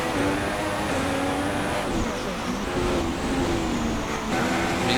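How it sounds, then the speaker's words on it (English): A Ferrari Formula 1 car in F1 2016, racing at the Chinese Grand Prix, drones with a high, steady engine whine, its pitch rising and falling through gear changes, loud and continuous. "You can just hear the sound of that Ferrari."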